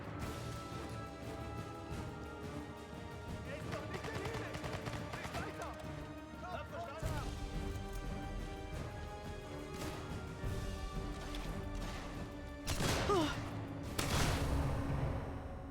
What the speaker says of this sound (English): I'm just shooting them while I'm down.